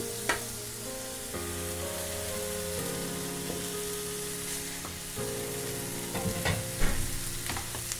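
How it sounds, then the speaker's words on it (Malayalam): Shrimp that were fried beforehand are stirred and sautéed with onions in a pan for an oil-free snack, a continuous soft sizzle under scraping spoon strokes, with a few louder clatters near the end. "ഇനി ഇതിലേക്ക് നമ്മൾ നേരത്തെ ഫ്രൈ ചെയ്ത് വെച്ച ചെമ്മീൻ ചേർത്ത് കൊടുക്കാം"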